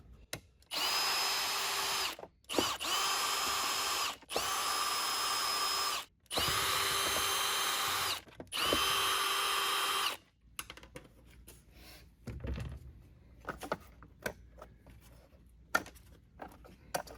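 Five sustained bursts from a power drill taking screws out of a Eureka Airspeed vacuum, each lasting one to two seconds and separated by short pauses, followed by quiet handling clicks and rustles.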